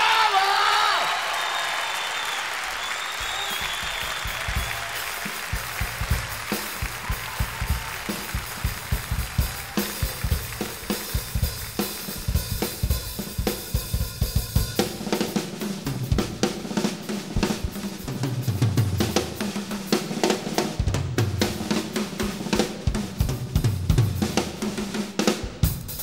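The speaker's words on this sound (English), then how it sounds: "let's all get together with a nice round of applause for the queen" Audience applause for a Brazilian singer at a live jazz concert, a dense wash of clapping loudest at the start that thins out as other stage sounds take over.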